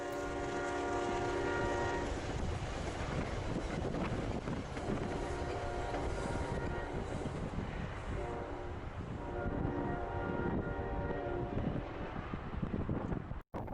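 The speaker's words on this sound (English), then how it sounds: "another P-32 goes north with a Metro North commuter" A P-32 AC-DM locomotive hauls a Metro-North commuter train northbound, its horn sounding in long sustained blasts over the steady rumble and clatter of passing passenger cars, with wind buffeting the microphone.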